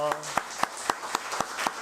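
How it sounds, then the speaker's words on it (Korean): A church congregation at a Sunday service at Onnuri Church Osaka claps together in thanks to God: a steady, evenly spaced run of about seven sharp claps in unison, fairly close. "하나님께 감사의 박수하겠습니다"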